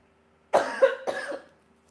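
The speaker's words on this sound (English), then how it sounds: "I'm coughing already." Two close, sharp coughs in quick succession from an adult indoors, standing out clearly against an otherwise quiet room.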